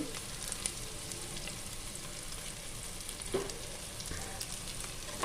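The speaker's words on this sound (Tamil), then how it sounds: "ஒரு வரமிளகா அப்புறம் கருவேப்பிண்டலாம் போட்டு நல்லா வணக்கிக்கலாம் வெங்காயம் நல்லா வணங்கினோடனையும்" Onions, dried red chilli and curry leaves sauté in a pan for an eggplant kadasal, giving a steady, close crackling sizzle with a few soft stirring scrapes and no voices.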